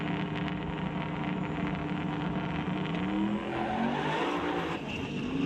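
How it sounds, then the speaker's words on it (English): A convertible Mustang roars at a drag strip launch during a limited street race, the engine blaring continuously and loud with rising harmonics and a hint of tire squeal. "Justin straight up into tire smoke off the hit, and Chris McGraw runs it through to a 5:39 with a 4"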